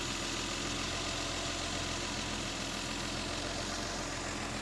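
A Mercedes Pagoda M130 engine, freshly set to spec, idles in a steady, even rumble with a faint mechanical patter. It runs continuously at low level, with no voices.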